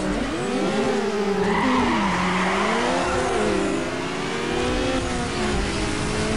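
A Mazda RX-7 in Need for Speed: Underground revs hard and its tires skid at a race start, with the wavering engine whine rising and falling steadily throughout and no voices.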